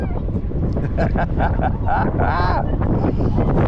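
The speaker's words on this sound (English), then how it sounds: "Get quite a wind from up here too." Strong wind rushes over the microphone high up on an amusement park ride at Glenwood Caverns Adventure Park in Glenwood Springs, Colorado, a steady loud roar under excited talking.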